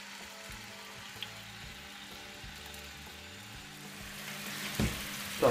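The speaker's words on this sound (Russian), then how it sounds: "Теперь нужно его обжарить до румяной корочки" Rabbit pieces fry in hot vegetable oil in a pan, a steady close sizzle running throughout, with a few louder clicks and pops near the end.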